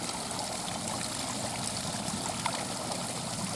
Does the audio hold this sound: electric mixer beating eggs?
no